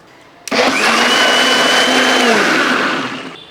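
A mixer grinder starts abruptly and runs loud and close for about three seconds, whirring steadily as it blends rice batter with cooked kappi kachu for Kerala-style vattayappam, then winds down.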